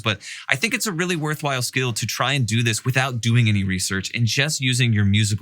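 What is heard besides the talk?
None of the usual background noises is heard.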